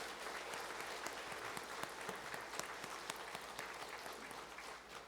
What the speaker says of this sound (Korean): 하나님께 감사의 박수를 크게 한번 올려드리도록 하겠습니다